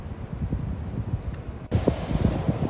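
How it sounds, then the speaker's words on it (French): Strong gusty wind buffets the microphone at the Vaches Noires sea cliffs on the French coast, a constant low roar that surges louder partway through, with no voices. "il y a pas mal de vent aujourd'hui."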